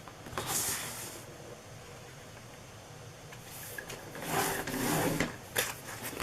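Paper for a snowman treat box is scored with a tool, giving several close, dry scraping strokes separated by quieter pauses.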